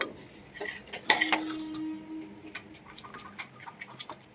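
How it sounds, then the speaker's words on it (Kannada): A knife chops okra into small pieces on a cutting board for a bhindi fry. Sharp, irregular taps and clicks ring out close by with no one talking, and there is some clatter of utensils in the middle. "ಈಗ ಬೆಂಡೆಕಾಯಿನ ಸಣ್ಣಕ್ಕೆ ಹೆಚ್ಕೊತಾ ಇದ್ದೀನಿ"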